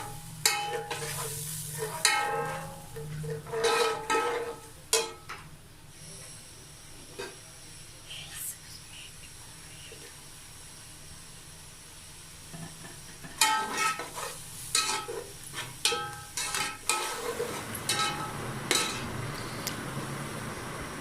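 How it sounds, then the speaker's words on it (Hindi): Beef mince fries in a pan with a chili, ginger and garlic paste, sizzling and hissing steadily while a spoon scrapes and stirs in bursts, with a quieter stretch of plain sizzle in between. "वो 2 चम्मच डालेंगे इसमें और इसको अच्छी तरह भूनेंगे।"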